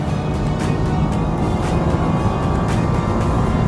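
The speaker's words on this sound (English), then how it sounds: "back on the throttle, just trying to build the speed through the corner" A Nissan Juke-R engine drives steadily on a race track while accelerating out of a corner, a loud continuous roar with no speech over it.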